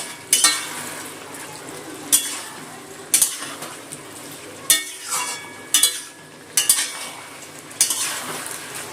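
Sugar stirred into Malabar spinach greens sautéing with a hilsa fish head: rhythmic metal spatula scrapes against the pan roughly every second, each followed by a brief sizzling hiss, close and clear.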